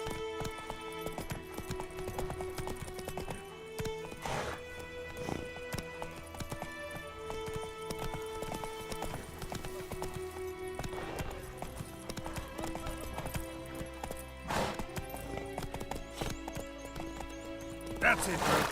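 Geralt's horse Roach trots in the video game Witcher 3, a steady rhythmic clip-clop of hooves throughout, mixed with game music tones and speech over it.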